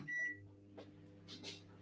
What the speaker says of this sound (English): I'm going to stick it in the microwave for about 3 seconds just to bring it back to a nice workable consistency